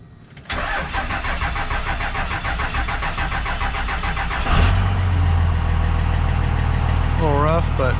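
A 24-valve Cummins diesel in a 2001 RAM 3500 dually cranks with a rapid starter chatter for about four seconds, then catches and settles into a loud, slightly rough low idle, with a brief squeal near the end.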